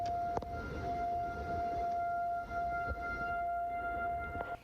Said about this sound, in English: You can hear the sirens roaring in Fort Smith